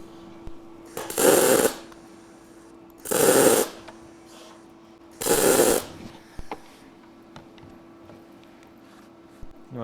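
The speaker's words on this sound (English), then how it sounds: "I'm just doing little spot welds" A MIG welder lays little spot welds on thin metal: three crackling, buzzing bursts of under a second each, spaced about two seconds apart, over a constant low machine hum.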